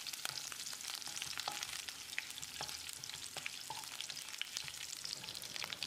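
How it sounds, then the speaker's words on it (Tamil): Curry leaves and green chillies sizzle and crackle in hot coconut oil, a busy spitting fry scattered with sharp pops and the occasional stir, heard close and alone. "3 கொத்து கருவேப்பிலையை சேர்த்து ஒரு 10 செகண்ட் பரட்டி விட்டுடலாம்."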